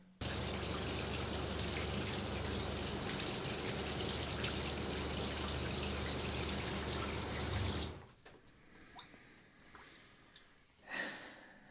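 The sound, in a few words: van shower running water from freshwater pump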